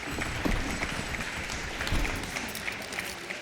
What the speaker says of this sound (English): A nice little golf clap